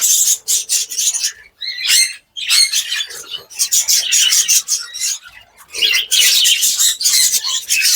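A colony of Australian budgerigars squawking and chattering loudly and close, overlapping harsh calls and chirps that run almost continuously with only brief gaps.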